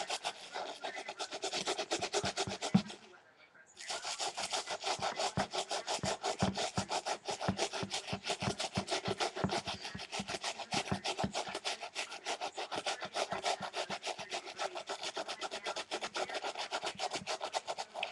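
Shoes are scrubbed clean with soap, a fast rhythmic brushing that rasps back and forth close up, pausing briefly near the start before continuing steadily.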